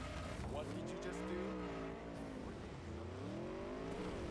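A car driving erratically in Cyberpunk 2077, its engine whining up and down in wavering sweeps with tire squeal, under someone talking.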